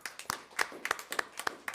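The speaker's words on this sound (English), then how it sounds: "Clap your hands for her." Small group at a school board meeting clapping in a quick, uneven rhythm, about a dozen distinct claps, fairly faint and close.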